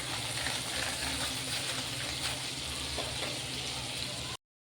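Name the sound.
cumin seeds frying in oil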